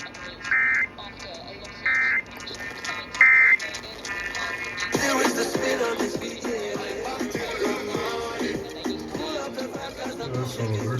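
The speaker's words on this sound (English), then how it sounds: "This conducts today's test of the emergency alert system." Emergency Alert System test on broadcast: three short, loud buzzing data bursts, each about a second apart, followed by a steady harsh attention tone sustained to the end.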